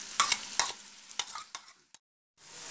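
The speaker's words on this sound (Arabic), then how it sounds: "بعد ما تشوحت البصل تأمرت" Onions fry in a little oil in a pot, heard as a soft sizzle broken by a few sharp spatula scrapes and knocks, then a brief silence before the frying hiss returns.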